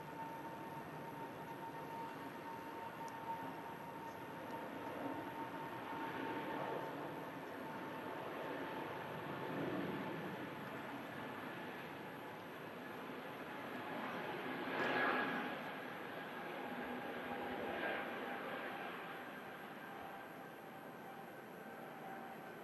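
A Scandinavian airliner at Manchester Airport rolls down the runway on its takeoff run to Stockholm, a steady, fairly distant jet roar that swells and eases in waves over about twenty seconds, with no voices.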